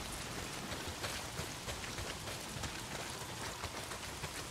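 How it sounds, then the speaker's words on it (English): Heavy rain falls steadily in the Days Gone video game, a dense, even hiss of drops with no break throughout. "Well, not if it's pissing down rain."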